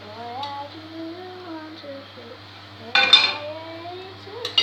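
Banana pancake flipped in a pan, a short metallic clatter of the pan and utensil after a stretch of quiet speech, followed by a brief second clink.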